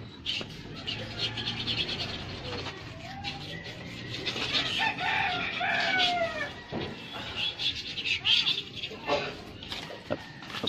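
Chickens cluck and a rooster crows in a yard, calls layered over a busy outdoor background with some distant voices, loudest around the middle of the stretch.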